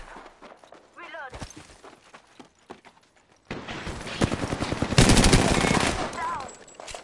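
Gunfire in the Apex Legends video game: a few sparse shots, then rapid automatic bursts that grow dense and loud during the second half, mixed with game voice callouts and speech.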